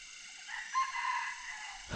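A rooster crows once in a forest area near a village, a clear sustained call rising and falling over about a second, fairly close and loud with no talk over it.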